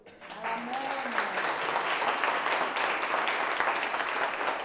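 A church congregation breaks into sustained, dense applause that swells quickly and holds steady for several seconds, a voice briefly audible at the start.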